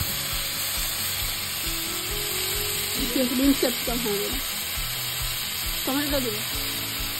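Sliced eggplant frying in a pan over a wood fire gives a steady close sizzle and hiss throughout, with a voice briefly speaking over it.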